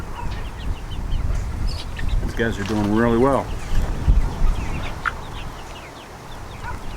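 Young laying hens cluck softly in a chicken tractor outdoors, scattered and close, while a person talks over them.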